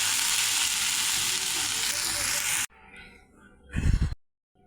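Mola fish with radish and potato frying in a pan sizzles loudly and steadily for a few seconds, then cuts off, followed by quiet shuffling and a brief burst of scraping stir noise before silence.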